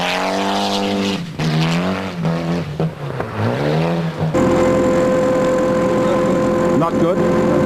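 A Mitsubishi Lancer rally car with no grip on the 1994 Rally of New Zealand, the engine revving up and down through rising and falling pitch sweeps, then a steady higher drone, all close and loud.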